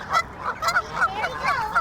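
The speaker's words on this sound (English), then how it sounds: "this is where I come to bring the kids to feed the birds, the ducks, and the geese" Geese honking at a pond, several close, loud calls repeating in quick succession over a short stretch, with no one talking.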